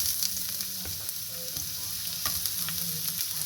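Crushed ginger and garlic frying in hot oil in a pan for pork fry, a close, steady sizzle with light stirring clinks and scrapes throughout.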